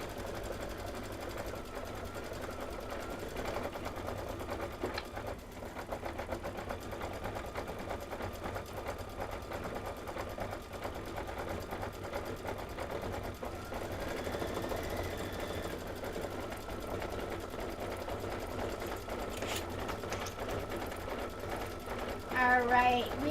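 An embroidery machine stitches an autumn design with a steady, continuous mechanical whir and rapid needle chatter, running unbroken at moderate level throughout.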